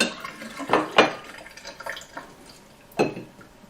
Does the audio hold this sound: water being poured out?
yes